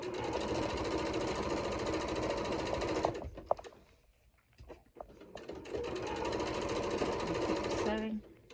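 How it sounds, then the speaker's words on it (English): A sewing machine stitches cushion fabric in a steady, fast mechanical whir, stopping for about two seconds midway, then running again. A voice speaks over it. "Sewing."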